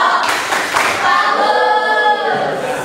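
A brief burst of group clapping fills the clip, close and fairly loud, with overlapping hand claps that fade near the end.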